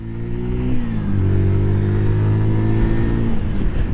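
A Zontes Mantis 125cc motorcycle pulls away and accelerates close by, its engine note climbing steadily through a few seconds of revving with no talking.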